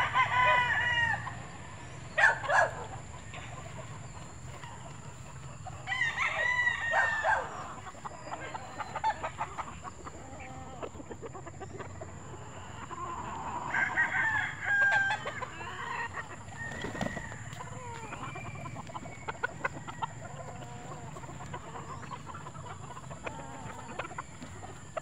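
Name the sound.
backyard chickens clucking while being fed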